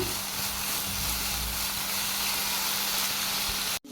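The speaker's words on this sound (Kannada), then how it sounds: "ಇದನ್ನು ಚೆನ್ನಾಗಿ ಮಿಕ್ಸ್ ಮಾಡಿ ಫ್ರೈ ಮಾಡ್ಕೊಳ್ಳೋಣ" Grated carrot halwa fries in ghee with a steady, close hiss and sizzle throughout, then cuts off abruptly at the end. No voices.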